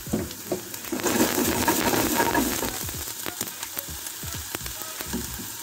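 Onions frying in a pan for an Asian quail egg dish, a close, steady sizzle and crackle that swells midway and then settles, with light stirring clicks and no talking.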